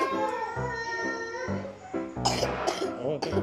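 A sick child coughs several times in quick bursts close by, throat-clearing mixed with small voiced sounds, while an adult's voice talks around the coughs.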